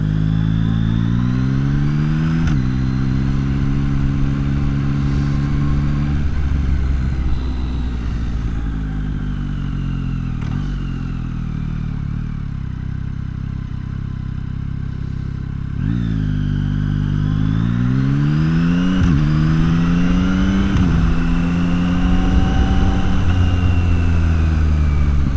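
A 2025 Yamaha MT-09 Y-AMT three-cylinder motorcycle on the road, its engine climbing and dropping through several rev surges with quick gear changes, close and loud, with no voices.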